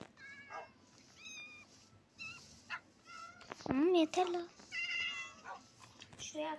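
Several cats meow repeatedly in Minecraft, high and sharp, with one long rising cry midway; a person speaks briefly between the meows.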